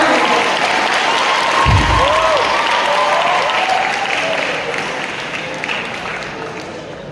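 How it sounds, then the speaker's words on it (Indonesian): Loud sustained applause from an audience of cadets at a public lecture, a dense clapping wash that fades slightly toward the end. "Kasih tepuk tangan dulu ini kalau ini paham."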